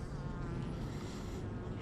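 Honeybees hum at the hive of a small swarm, a dense, close, continuous buzzing that stays fairly even from start to finish.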